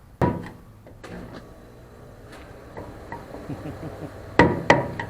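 A hammer taps the fuel pump lock ring on a Mustang's tank, giving a few sharp metallic knocks spaced through the clip, with a close pair of strikes near the end and quieter rattles between.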